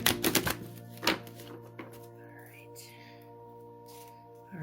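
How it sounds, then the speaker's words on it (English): Large tarot cards being shuffled by hand, a burst of quick papery riffles and taps near the start, then a single slap just after a second, followed by quieter faint rustling. "trying to shuffle these with my tiny little squirrel hands is rough. So let me get these shuffled."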